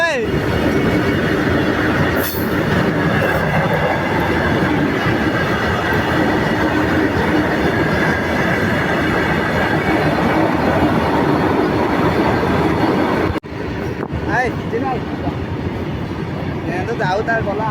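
A train rushes past close by, a loud continuous rumble of wheels on rails with rattling carriages that holds steady for the whole stretch before briefly dipping near the end.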